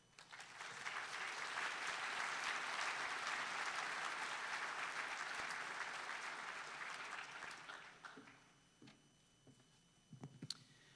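Steady applause from a large audience fills a white coat ceremony hall for about eight seconds, then thins to scattered claps and fades out.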